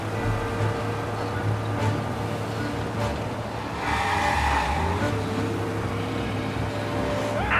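A car in the Mafia: Definitive Edition game drives steadily with a continuous engine and road roar, briefly joined by a tire squeal midway, with no talking.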